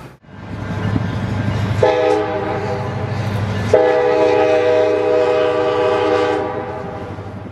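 A train rumbles loudly close by while its horn sounds in two long blasts, the first lasting about two seconds and the second about three, over the continuous roar of the cars.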